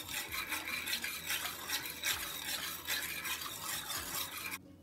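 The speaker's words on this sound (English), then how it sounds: "We're going to give it a quick whisk until it's well incorporated." Metal whisk rapidly beating all-purpose flour and a pinch of salt together in a bowl, a steady dense scraping and rattling that runs continuously, close and fairly loud, then stops abruptly near the end.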